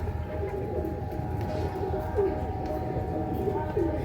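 Malbai pigeon cooing close by, a few soft, low, rolling coos rising over a continuous low rumble of background noise, fairly faint and without speech.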